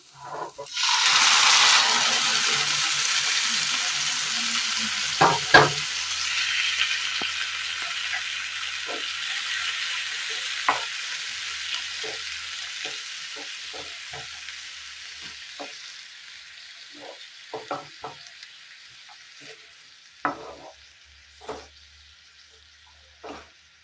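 Boiled jackfruit seeds are stirred into wilted, sautéed leaves in a hot pan for a Kerala curry, giving a loud burst of sizzling that fades into a softer crackle, with scattered spoon scrapes and clicks against the pan.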